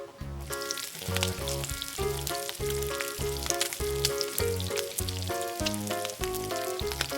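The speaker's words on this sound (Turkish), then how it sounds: "Köfte ve sosisleri pişiriyorum." Steady crackling sizzle of toy meatballs and sausages on a toy barbecue set, running continuously beneath loud background music.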